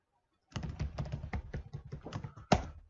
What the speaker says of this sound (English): So just type my user ID here and the credentials.